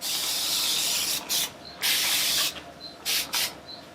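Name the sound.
spray bottle spraying water onto hair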